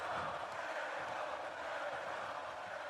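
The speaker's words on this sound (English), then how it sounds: "And now the crowd chanting Jericho." Wrestling crowd in an arena chanting a wrestler's name, a dense, steady roar of many voices carrying on without a break.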